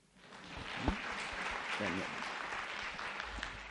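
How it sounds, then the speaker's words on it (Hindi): Audience applause at a management staff meeting swells in after a quiet start, then holds as steady clapping, with a brief voice or exclamation mixed in near the start. "अगर सही हूं तो तालियां बजा दो।"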